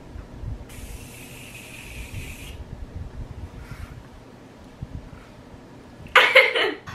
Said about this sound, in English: Do you want me to spray you?